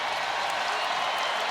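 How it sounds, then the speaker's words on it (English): A basketball arena crowd at Footprint Center, home of the Phoenix Suns, gives a standing ovation during an NBA game against the Denver Nuggets, a dense, loud, unbroken roar of cheering and applause. "Standing ovation now from this Footprint Center crowd."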